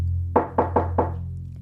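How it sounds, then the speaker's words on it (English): Four evenly spaced knocks land on a bedroom door, firm and close, over a steady low hum. "a knock on the bedroom door startles him out of his reverie"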